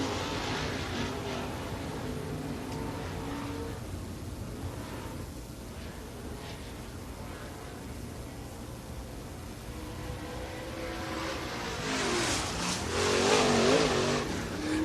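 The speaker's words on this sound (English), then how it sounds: "That's the 51 car making his way around the Speedway here." A race car laps Cherokee Speedway in Gaffney, South Carolina during qualifying, its engine droning at a distance, fading slightly, then swelling louder as it revs past with a rising whine near the end.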